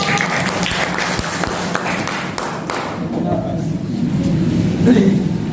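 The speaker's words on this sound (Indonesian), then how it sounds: "Yang semangat dulu, tepuk tangannya." A classroom group of students claps hands in a short burst of applause, brisk overlapping claps fading into general chatter and talking voices.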